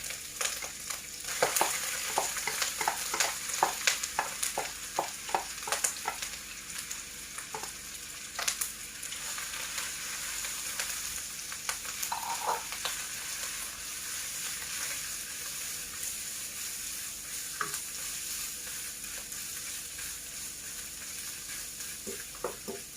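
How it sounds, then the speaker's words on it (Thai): Ginger frying in hot sesame oil, a continuous bright sizzle with frequent spatula clicks and scrapes early on that thin out as the frying settles into a steady crackle, close and without speech. "เราก็จะมาใส่ ขิงลงไปทอดเลยค่ะ"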